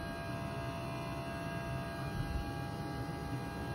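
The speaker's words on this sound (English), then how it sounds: "And that humming you hear is the coolant pump. It's pretty loud, actually." A loud, steady electric hum from the coolant pump on a Stage 3 Impala SS, continuous and unchanging throughout, with no talking over it.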